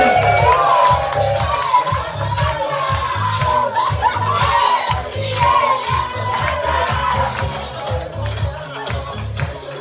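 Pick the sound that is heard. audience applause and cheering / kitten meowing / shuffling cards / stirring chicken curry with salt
audience applause and cheering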